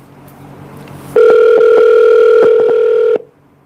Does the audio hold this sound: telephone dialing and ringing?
yes